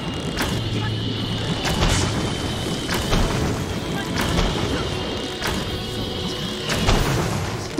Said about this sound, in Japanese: すごい爆発してる。